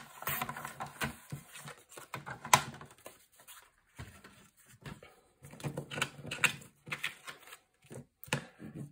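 Cardstock being cut for a Graphic 45 tag album, a run of short dry scraping and snipping strokes in irregular bursts with pauses between, close and fairly quiet, with no talking.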